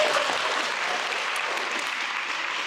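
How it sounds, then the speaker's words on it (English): Conference attendees at an English-teaching gathering break into steady applause, a dense, even patter of many hands clapping that carries on throughout without any voices over it. "can you please applaud ourselves?"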